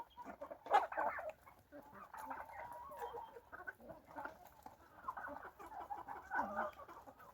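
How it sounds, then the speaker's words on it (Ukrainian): Several chickens cluck and chatter steadily at close range while feeding alongside turkeys in a farmyard, with occasional louder squawks breaking through the ongoing clucking. "А кури з індичками їдять."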